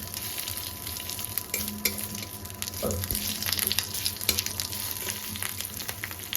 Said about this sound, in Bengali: শুকনো লঙ্কা জিরে আর তেজপাতা ফোড়ন